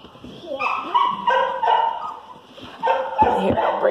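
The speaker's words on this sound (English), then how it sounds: "You hear your mama barking?" A mother dog barks and yips in quick bursts nearby, with whiny, high-pitched tones between the barks.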